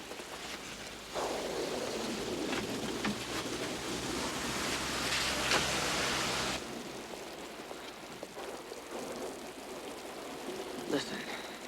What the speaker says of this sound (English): Well, right now, I'm just getting hit with water.